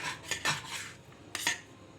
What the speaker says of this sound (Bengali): এখন আমি এই ডিমটাকে পিস করে কেটে নেব।